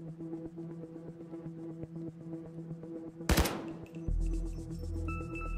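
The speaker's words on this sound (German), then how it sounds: "nur halt gelegentlich mal einen Schuss abliefern" Gunfire in the video game Payday 2, played on Death Wish difficulty: one loud, sharp broadband shot near the middle, followed by a low droning rumble over steady game music, with no talk.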